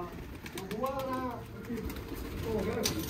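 A pigeon kept as a racing bird coos in a soft rolling phrase, close by, mostly under a voice as he talks, with a second brief coo near the end.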